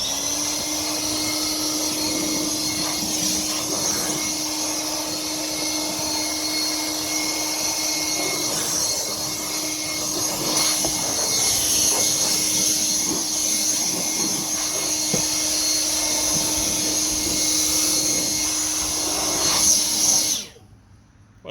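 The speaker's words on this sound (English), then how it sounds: "I'm going to go with my rigid portable blower." A Ridgid portable blower roars steadily at close range with a high whine, running continuously for about twenty seconds before cutting off abruptly, used while replacing the engine air filter on a 2012 Toyota RAV4 2.5 four-cylinder.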